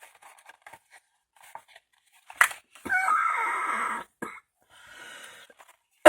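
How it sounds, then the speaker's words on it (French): A woman coughs a few times in a quiet room, with a longer hoarse, strained cough in the middle and brief breaths between. "Désolée, je ne peux pas m'arrêter de tousser."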